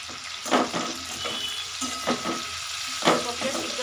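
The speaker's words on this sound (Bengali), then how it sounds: "ফুলকপিটা একটু নেড়ে দেবো।" Cauliflower frying in a pan for a home-grown cauliflower, potato and fish curry, with a steady sizzle and several scraping stirs spaced through it, close and moderately loud.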